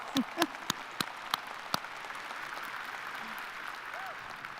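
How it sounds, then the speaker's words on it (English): Audience applause at a university graduate degree commencement ceremony, a steady wash of clapping from a large crowd heard at a moderate distance, with a few sharper claps near the start. "It deserves a round of applause."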